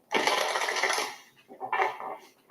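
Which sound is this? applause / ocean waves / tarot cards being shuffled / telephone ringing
tarot cards being shuffled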